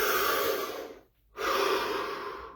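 A deep breath taken near and clear: a long airy inhale, a brief silent hold, then a steady exhale, with no talking.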